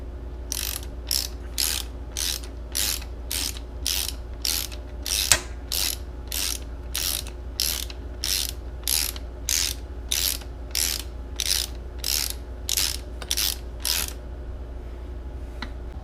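A torque wrench clicks in an even ratcheting rhythm, about twenty crisp strokes close by, while being adjusted for a rear brake cylinder bolt on a 2019 KTM 690 Enduro; it stops near the end, with no talking.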